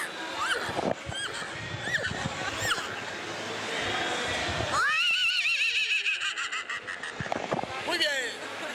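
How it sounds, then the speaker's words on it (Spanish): Near a horse in heat at a two-wheel motor fair in Medellín, someone in the crowd gives a long, loud neigh and whinny, with squealing tones and excited voices around it. "Hágale pues con un caballo en celo"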